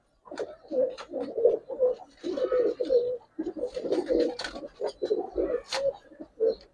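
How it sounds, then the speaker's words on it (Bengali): Young pigeons coo close by in a loft, a steady string of soft, throaty rolling calls overlapping one another with barely a pause. "এগুলা উঠতির কবুতর ভাই, ডাইরেক্ট সরাসরি"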